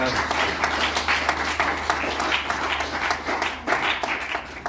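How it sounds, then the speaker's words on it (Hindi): Parents get an enthusiastic round of clapping at a taekwondo academy felicitation ceremony, crisp individual claps forming a lively, uneven patter with a faint voice beneath. "तो एक जोरदार ताली बजनी चाहिए आपके"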